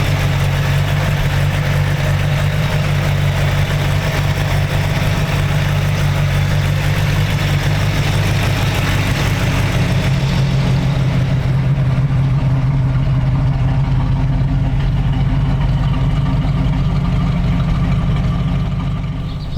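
A 1954 Chevy DeLuxe coupe's 348 Tri-Power V8, freshly pulled from the shop and still relatively cold, idling with a loud, steady, deep rumble close by, unbroken for the whole stretch.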